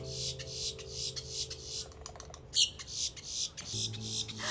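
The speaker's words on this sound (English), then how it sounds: "Do you guys see this bird?" A bird gives a series of sharp squawks and chirps, fairly close, over a steady low hum and some clicking.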